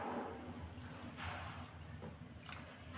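Half a kilo of basmati rice washed by hand in water, with soft close sloshing, squishing and dripping at low volume and no talk.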